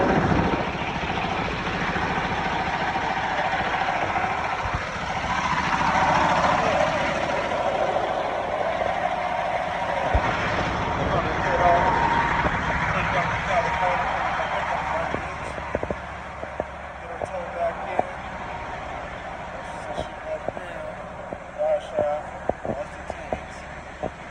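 Stretch Peterbilt 379 owner-operator truck with a 300-inch wheelbase, its engine started and settling into an idle after a delivery in Denver, Colorado: a steady, broad diesel rumble that stays loud throughout, with scattered clicks and knocks toward the end.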